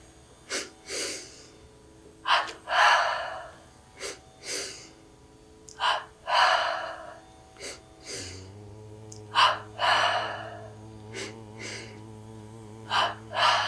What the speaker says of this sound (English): Let's begin with double breathing,